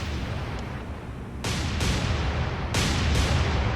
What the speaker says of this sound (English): Our gunners have already seen them and they are opening up with anti-aircraft fire.